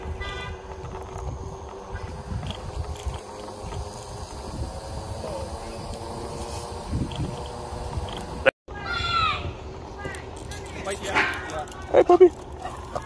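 A dog barks a few times amid outdoor background noise and some talking, with short sharp yelps near the end.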